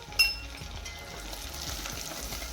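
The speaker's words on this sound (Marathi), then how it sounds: "त्याची मी पेस्ट करून घेतली होती ती टाकलेली आहे तेलात आणि चमच्याने व्यवस्थित अशी फिरवून घ्यायची आहे" Garlic and coconut paste frying in hot oil with a steady close sizzle, a spoon scraping and clinking against the pan as it is stirred throughout.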